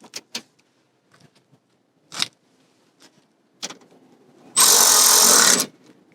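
A power tool tightens down a fender shroud on a GR Corolla in one loud, steady burst of about a second, after scattered light clicks and handling knocks.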